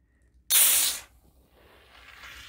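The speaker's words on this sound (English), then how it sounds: "That's a lot of fizz and bubbles." A shaken soda can is opened with a sudden loud hiss of escaping gas lasting about half a second, followed by a quieter, steady fizzing and bubbling.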